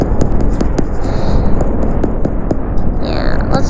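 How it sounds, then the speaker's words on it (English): Fireworks effect from the mobile video game Solar Smash, a steady crackling wash with repeated sharp pops over a continuous low rumble, loud and close throughout. "Lots of fireworks."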